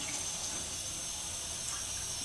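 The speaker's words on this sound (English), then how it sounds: "I should now have a good stream of water." A steady stream of water from a nine-plate alkaline water machine rushes and hisses continuously at an even level, close by, with no pauses.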